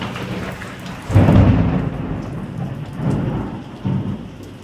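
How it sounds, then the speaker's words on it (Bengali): A heavy thunderstorm with steady hard rain hissing on surfaces, broken by several loud rolling thunderclaps close by, one big crack followed by two smaller rumbles; no voices. "বাপরে কি জোর জোর বিদ্যুৎ চমকাচ্ছে, বাদ পড়ছে একদম"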